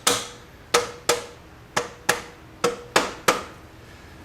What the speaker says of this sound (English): I have a plastic hammer here, and just tap on the assembly.